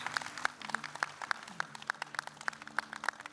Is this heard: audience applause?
yes